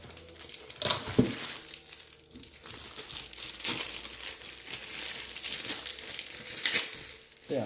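A blade cuts through plastic wrapping on a laptop cable, giving close, crinkling and tearing plastic sounds in irregular bursts with scattered sharp rustles.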